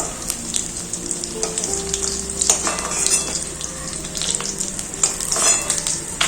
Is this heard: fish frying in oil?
yes